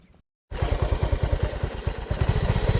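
A motorcycle rides along a country road on a farm in Jamaica, its engine loud and close with a fast, throbbing rhythm that starts abruptly after a brief silence and holds steady.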